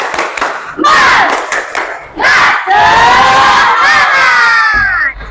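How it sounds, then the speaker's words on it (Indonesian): Students in a junior high school classroom stand and chant a rhythmic clap-and-shout cheer together, loud voices rising in bursts with clapping, close and lively. "Sekarang kita tepuk semangat dulu ya."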